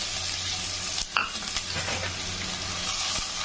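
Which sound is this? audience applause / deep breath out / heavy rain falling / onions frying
onions frying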